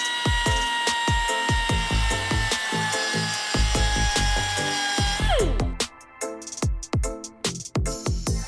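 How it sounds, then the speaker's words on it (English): A power tool cuts a slot into the head of a bolt during an Evo X engine rebuild, a continuous whining grind with rapid clicking, then stopping and leaving sharp metallic taps and scrapes. "Now I'm just gonna cut a slot right in the center of it"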